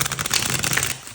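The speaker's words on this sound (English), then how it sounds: "I want to shuffle one more time." Tarot cards being shuffled during a pick-a-card reading: a quick, close run of papery riffling flicks lasting about a second, with no voices.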